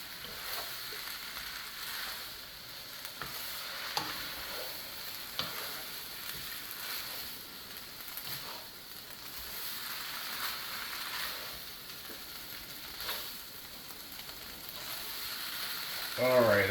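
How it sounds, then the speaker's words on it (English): Chicken yakisoba noodles from Costco sizzle and fry steadily with meat and vegetables as they are stirred, broad hissing sustained throughout with occasional scraping and clacking of the utensil against the pan, close and without talk. "Trying to get all the meat mixed in the middle of the noodles right now."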